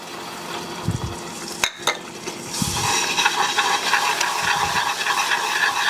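Caramel sauce bubbling and steaming right after heavy cream is poured in off the heat, a brief sharp burst giving way to a steady, fairly loud hiss and sizzle with light stirring, no talk.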